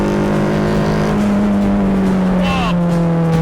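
A Formula 4 race car driving on a circuit, its engine a loud, steady, close droning tone held throughout, dipping slightly in pitch near the end.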